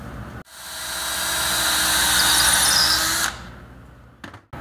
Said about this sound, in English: I'm going to pre-drill because it's a big lag.